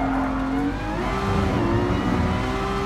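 A Ferrari 458 in Gran Turismo Sport holds a steady, loud, high-pitched engine note close up, revving smoothly as it climbs slightly in pitch, with no voices over it.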